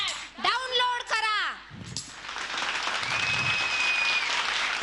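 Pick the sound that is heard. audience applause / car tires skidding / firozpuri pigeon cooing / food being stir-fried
audience applause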